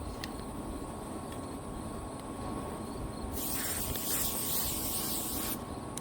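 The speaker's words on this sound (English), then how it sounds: "So I spray down all of my clothing first with permethrin," Permethrin spray misted onto hung clothing outdoors: a steady hiss runs for a couple of seconds over constant insect or cricket chirring, with no talking.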